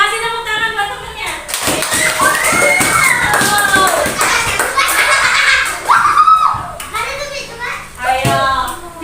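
Children in a first-grade primary school classroom break into clapping for a classmate, a dense burst of many small hands lasting several seconds, with kids' voices and chatter mixed in around it.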